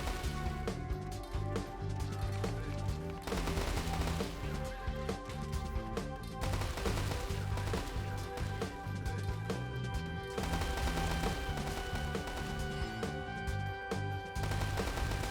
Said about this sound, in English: my workers can quickly react by building machine gun towers, which easily deal with this small contingent